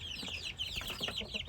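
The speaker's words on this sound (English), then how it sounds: "there's the baby chickens" Baby chickens peep in a rapid, overlapping chorus of high chirps. The sound is steady, faint and close, over a low background hum.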